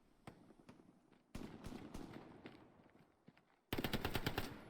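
Automatic machine gun fire from the World War II shooter Hell Let Loose during a competitive 18-versus-18 match: two loud bursts of rapid shots, one near the middle and another at the end, with scattered single shots between them.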